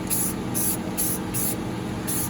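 Bursts of spray paint from an aerosol can laying a wet coat onto a mirror, five short hissing sprays in a steady rhythm, close and fairly loud, with a low background rumble.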